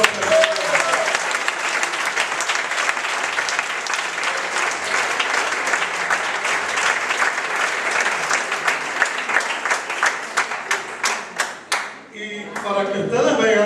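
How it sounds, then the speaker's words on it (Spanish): A church congregation applauds, sustained clapping from many hands for about twelve seconds before it fades out and a voice begins speaking. "Vamos a dar un aplauso al Señor."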